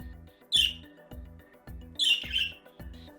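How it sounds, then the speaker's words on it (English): A bored parrot lets out two loud, harsh screeches about a second and a half apart, over a quiet, steady musical background. "These noises include ear-piercing screams"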